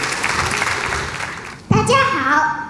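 An audience at a parent-child talent competition breaks into sudden loud applause after a host's spoken introduction, a dense burst of clapping that sustains to the end.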